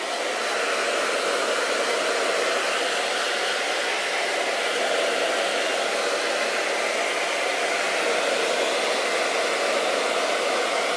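A hair dryer fitted with a diffuser runs on high heat, a steady, loud, even whoosh of blowing air that holds constant throughout with no voices.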